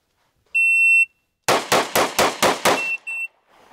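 A shot timer beeps, then a pistol fires six rapid, loud close shots in three quick pairs during a 2, 2, and 2 drill, followed by a short second beep.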